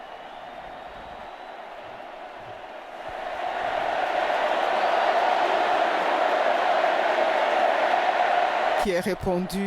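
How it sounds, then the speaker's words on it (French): A large stadium crowd of catechists and young people roars and cheers for the Pope at the Stade des Martyrs in Kinshasa, a sustained swelling ovation that grows louder midway, with a voice speaking briefly at the end. "par une acclamation de joie et de jubilation par les catéchistes et les jeunes présents au stade des martyrs"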